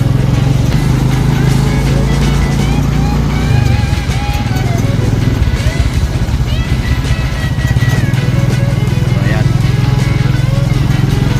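A Honda Wave 110cc motorcycle with a sidecar runs steadily and loudly close by, its drone continuous throughout, with people talking over it.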